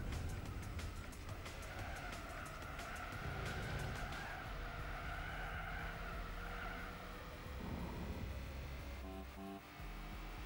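Compact racing cars in Gran Turismo 4, a sustained engine drone with rising and falling revs and repeated tire squeals and skids, one car close behind another in a cup race.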